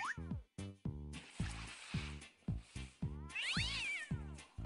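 A cat meowing repeatedly, a run of loud, close, drawn-out meows and yowls in quick succession with brief pauses between them, and no voices.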